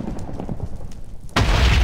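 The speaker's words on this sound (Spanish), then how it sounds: "Explosión." Explosion in Terraria: after a stretch of quieter game sounds, a sudden loud booming blast hits partway through and roars on with dense crackling noise to the end.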